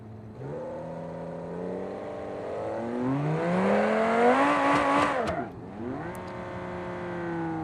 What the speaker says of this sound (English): this is why I picked this thing. Because it's good at blazing the tires off